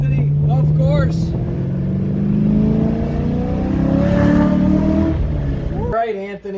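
A 2014 Chevrolet Camaro SS 1LE V8 revs hard through a second-gear pull, its rising engine note climbing steadily and loud for about five seconds before dropping off abruptly as the throttle lifts.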